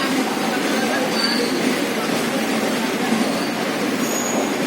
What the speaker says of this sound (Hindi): ये है इलाहाबाद जंक्शन